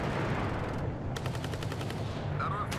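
Grenade launchers on a BTR-70 armored vehicle firing in the WARNO strategy game, a rapid string of sharp rhythmic reports over a constant roar of battle noise and explosions.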